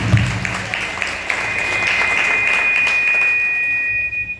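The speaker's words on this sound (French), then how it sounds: "Applaudis la présence de Dieu" Applause at a church graduation ceremony, a crowd clapping loudly at first then settling into a steady wash, with a sustained high electronic tone, like feedback, running through the latter half.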